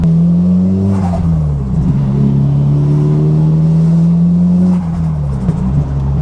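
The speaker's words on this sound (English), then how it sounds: "Like when you have a car that flutters, or an S15 that flutters especially, it's so addicting." A turbocharged Nissan S15 Silvia drones loudly from close range while driving, its engine note rising and falling with gear changes, with faint fluttering chatter from the turbo as the throttle lifts.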